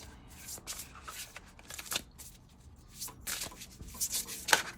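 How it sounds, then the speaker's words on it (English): Tarot cards shuffled by hand at a reading, with soft riffling, sliding and tapping bursts repeating irregularly, close up and moderately quiet, no talking. "let's pull some cards and then I'll channel again"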